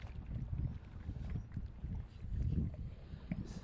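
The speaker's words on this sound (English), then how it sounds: "Really, really strong wind." Strong wind buffets the microphone outdoors on a rocky shoreline during a fishing trip, a steady low roar with gusting surges and the faint wash of water beneath.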